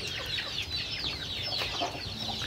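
Native chickens clucking close by while they wait for food, a steady overlapping run of soft clucks and chatter from several birds.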